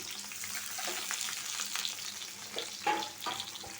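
Onions and green chilies fry in a pan for a bottle gourd peel stir-fry, a soft, even sizzle heard faintly and continuously, with a light stir near the end.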